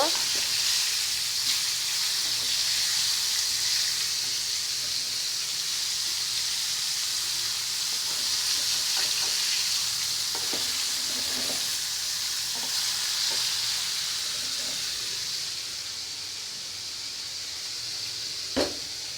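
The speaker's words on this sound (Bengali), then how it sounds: "এইখানে মাছ ভেজে নিচ্ছি, মাছ রান্না করব" Fish fries in a pan with a loud, steady hissing sizzle that slowly eases, broken by a few faint clicks and taps, close by and without any talking.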